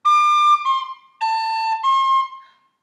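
A tin whistle plays the opening phrase of Garret Barry's Jig, a traditional Irish jig, in the high D register: two clear sustained melodic bursts separated by a short breath, close and fairly loud, with no talking.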